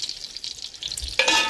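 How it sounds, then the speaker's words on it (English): Bacon fries in a pot with a steady crackling sizzle, close and fairly loud, then swells into a sharper burst of spitting near the end. "let's get started by frying the bacon"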